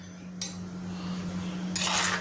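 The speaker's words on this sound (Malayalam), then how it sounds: "എല്ലാം കൂടെ ചേർത്ത് മിക്സ് ചെയ്ത് കൊടുക്കും" A spoon scrapes against a pot of kootu curry twice, briefly and close, over a steady low hum.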